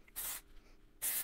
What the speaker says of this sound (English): I'm just gonna spray in segments through the greasier areas of my scalp